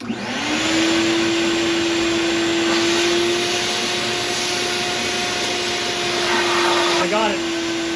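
A vacuum cleaner motor whines loudly and steadily up close, sucking dirt from the fuel petcock of a Kawasaki ZX6R motorcycle, with a brief change in pitch near the end.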